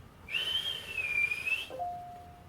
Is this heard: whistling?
yes